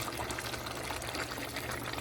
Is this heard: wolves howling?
no